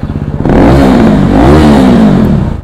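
A loud, close KTM RC 390 motorcycle engine revs up from a rough idle into a sustained throaty roar, with no voices.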